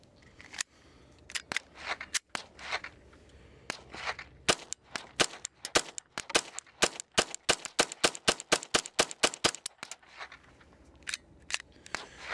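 Semi-automatic pistol firing Peters 40-grain solid point ammunition, a long string of sharp pops at an even pace, some in quick succession, with no voices between shots.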